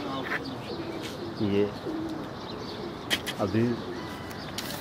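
Pigeons coo on a rooftop in Rawalpindi during a one-day pigeon flying tournament, two soft throaty bursts of cooing close by, with a few chirps and someone speaking over the birds.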